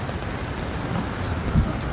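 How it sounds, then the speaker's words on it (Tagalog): Heavy rain pours down outdoors as a loud, dense, continuous roar of drops with no pauses, and a low thud sounds briefly near the end. "Sobrang lakas ng ulan."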